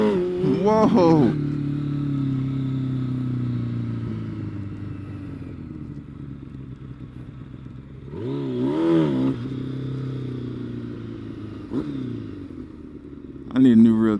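A motorcycle engine runs at a steady idle-like drone, with sharp revving bursts at the start, around the middle and at the end, close and loud, and a person exclaims during the ride.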